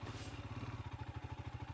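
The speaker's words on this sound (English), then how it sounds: "Use the engine braking to keep a nice slow pace through here" A Royal Enfield Himalayan 411 motorcycle engine-braking at low revs on a slippery off-road trail, a steady rapid low thumping pulse with light mechanical clatter, close and continuous.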